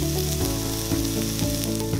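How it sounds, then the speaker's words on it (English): Fresh pineapple slices sear on a hot griddle with a steady, close, continuous sizzle, with sustained tonal sounds running underneath throughout. "Place the pineapple on the hot griddle for a minute on each side until beautifully caramelised"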